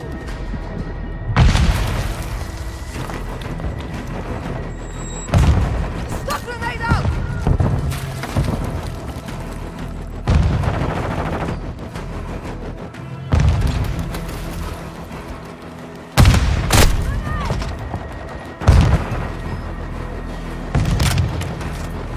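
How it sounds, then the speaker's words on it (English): Repeated heavy booms of cruise missile strikes in Modern Warfare 2 Hardpoint on Zarqua Hydroelectric, five or six loud blasts spaced a few seconds apart over rumbling game noise, with in-game announcer voice lines between. "The enemy launched a cruise missile."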